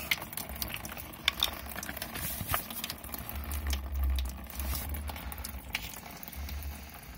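Oily coolant drains from a Volkswagen Passat engine during teardown, a steady pattering, trickling flow of liquid close by, continuing alone throughout with a low rumble underneath.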